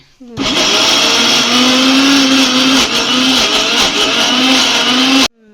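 An electric mixer grinder whirs loudly and steadily for about five seconds, its motor pitch wavering slightly, then stops abruptly.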